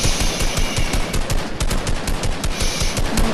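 Rapid bursts of video game gunfire, loud and close, in a dense continuous stream of shots with no talking.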